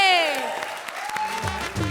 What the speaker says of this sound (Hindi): हाथ खोलो, ताली बजाओ राजू भाई के लिए